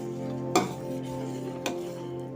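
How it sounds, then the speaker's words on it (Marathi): Jaggery syrup being stirred in a pan over a low gas flame: two distinct scraping strokes against the pan over a steady low hum, with no talking. "आपण बारीक गॅसवर ठेवणार आहे आणि सारखं हलवत राहणार आहे"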